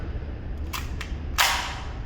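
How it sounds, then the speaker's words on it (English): A Sa vz.61 Skorpion select-fire machine pistol has its bolt racked, giving a few sharp metallic clicks followed by a louder snap, close and clear against a low background hum. "I believe you have to put it on semi or auto to rack the bolt."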